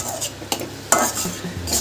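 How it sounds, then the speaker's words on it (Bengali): Methi chicken is stirred in a pan, with a spoon scraping and clinking against the metal over a soft sizzle, then a sharper knock that could be the lid going on. The clip is brief, close and has no talking. "দিয়ে একটু নাড়াচাড়া করে একটা ঢাকনা দিয়ে দেব।"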